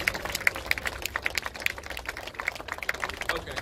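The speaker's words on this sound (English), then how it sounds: "Let's give Kashima Williams a round of applause." Scattered clapping from a small outdoor crowd at a justice rally in Houston, Texas, individual claps distinct and uneven, fairly faint and thin rather than a full ovation.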